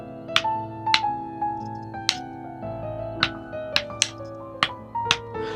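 Drumsticks click out an uneven beat, a dozen or so sharp, bright taps at irregular intervals over ringing, sustained piano-like tones, close and clear, with no voices.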